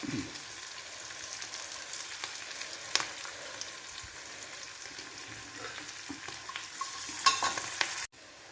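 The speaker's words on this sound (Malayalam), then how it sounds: "കറിവേപ്പിലയും കൂടെ കൂടിക്കിടന്നൊന്ന് മൂത്ത് വരട്ടെ" Curry leaves crackling in hot oil for a bitter gourd pickle, a constant close sizzle broken by faint spoon scrapes and a sharp clack near the end, no voices present.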